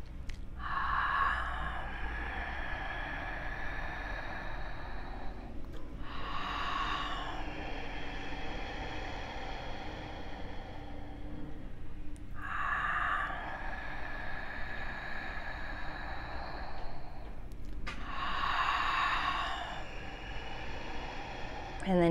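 Ujjayi ocean breathing: four long, rushing breaths at steady intervals, each a soft hissing, wave-like exhale made with the mouth closing partway, close and fairly loud against a constant low hum.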